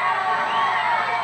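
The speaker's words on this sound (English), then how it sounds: "Let's give Stephanie Mayers from Fullerton, California a big round of applause." A crowd cheers and whoops for a rider at a 1986 BMX freestyle show in Queens, New York, a steady dense roar of voices lasting throughout, loud and close with no pauses.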